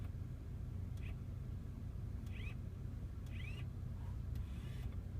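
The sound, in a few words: climate control servo actuators in Bentley Brooklands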